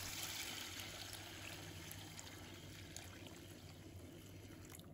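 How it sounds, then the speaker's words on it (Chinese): Boiling water pours steadily into a clay pot of glutinous rice, lotus seeds and stir-fried red beans, a soft continuous stream that stays faint throughout. "倒入开水"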